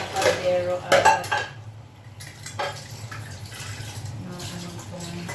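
Bulky cooking pot (kaldero) scrubbed at a kitchen sink: loud metallic clanks and scrapes early on, then quieter water and handling noises with soft clinks close by.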